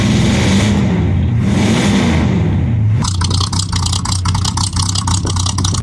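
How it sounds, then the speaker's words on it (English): A 1986 Chevrolet Scottsdale C10 pickup on straight pipes revs loudly, the pitch swinging up and down in a couple of blips before settling into a rough, throaty idle nearby. "It's got some straight pipes."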